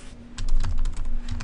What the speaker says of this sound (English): slow down my typing I think a bit